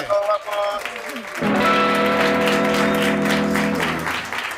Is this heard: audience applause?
yes